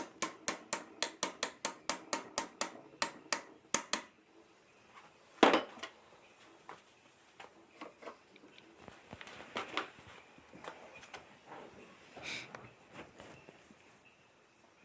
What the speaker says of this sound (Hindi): बुश को भी हमें ठोक के बैठा लेना है।